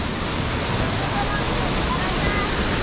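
A large waterfall at Misiguay Falls in Santander, Colombia, gives a constant, loud, broadband roar of falling water that fills the whole scene evenly.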